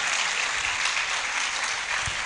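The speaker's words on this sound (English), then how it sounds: "Let's applaud now while she makes her way up." An audience at a law faculty roll call ceremony claps loudly and continuously, a dense even burst of applause with no voices over it.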